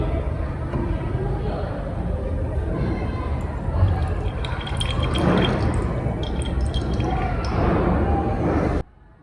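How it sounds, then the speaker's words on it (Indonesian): Water trickles and drips steadily from an overflow can into a 250 ml glass beaker, a continuous wet splashing that runs for several seconds before stopping abruptly. "air yang ada dalam tabung berpancuran tumpah ke dalam gelas kimia 250 ml"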